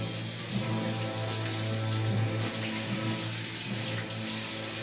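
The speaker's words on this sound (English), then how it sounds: "Nothing like a cold, brisk shower to put a man right." A cold shower running steadily, a close continuous hiss and splash of water with a faint tonal hum beneath it and no speech.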